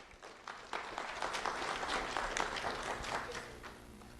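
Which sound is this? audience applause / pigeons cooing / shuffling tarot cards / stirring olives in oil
audience applause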